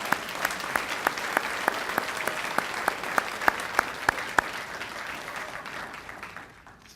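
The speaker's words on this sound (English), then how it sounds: "Let's give a big round of applause to Districts 1, 3, and 6." Audience applause at the Team Up 2017 event for Districts 1, 3 and 6, dense clapping with a few sharp, distinct claps standing out near the front before it thins and fades out.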